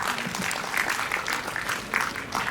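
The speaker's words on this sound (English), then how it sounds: "Let's give him a big round of applause." A seated audience at a university conference session applauds a guest being welcomed to the stage; quiet, steady clapping heard from a distance, with a faint voice underneath.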